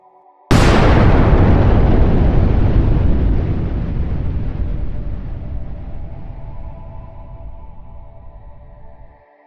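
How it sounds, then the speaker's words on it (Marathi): Explosion from India's first nuclear test, Operation Smiling Buddha, on 18 May 1974: a sudden loud blast followed by a long, heavy rumbling roar that slowly fades over several seconds, with no voices. "प्रणब आर दस्तगीर यांनी फायरिंग बटन दाबून 18 मे 1974 रोजी भारतीय प्रमाण वेळेनुसार सकाळी 8:05 या उपकरणाचा स्फोट घडवून आणला."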